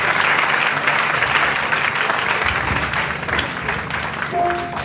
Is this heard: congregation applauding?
yes